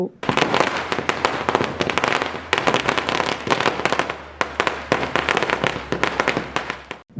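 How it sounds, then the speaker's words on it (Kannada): Strings of firecrackers burst in rapid, loud crackling volleys at a BJP victory celebration in Chikkamagaluru, with brief pauses between bursts and crowd noise beneath. "ಬಿಜೆಪಿ ಕಾರ್ಯಕರ್ತರು ಪಟಾಕಿ ಸಿಡಿಸಿ"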